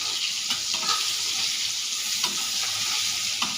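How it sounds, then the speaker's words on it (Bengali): Eggplant pieces frying in a pan with salt and turmeric, a steady bright sizzle with soft scraping stirs now and then, close and continuous. "নুন দিয়ে একটু নাড়াচাড়া করবো"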